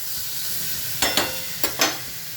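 Capsicum frying in oil keeps up a soft background sizzle, broken by four sharp scraping strokes in two close pairs, like a spoon stirring or lifting the pieces in the pan.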